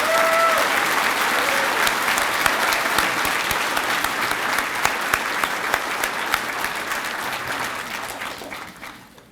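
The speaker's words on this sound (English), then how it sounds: "let's give them a round of applause." A banquet audience at the 2025 Coweta County Citizen of the Year event breaks into loud, sustained applause that holds steady for several seconds and then fades away.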